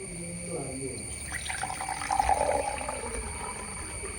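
Water runs and splashes into a container for a couple of seconds, with faint voices and a steady background hum.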